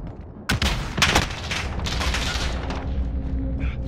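Gunfire in Call of Duty: Modern Warfare multiplayer, a couple of sharp loud shots early on, then a rumbling bed of distant firing and game noise with no talk.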